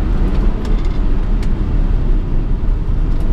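A SN-95 Ford Mustang GT V8 engine under way while driving, with a loud, steady low rumble and continuous road and wind roar from inside the car.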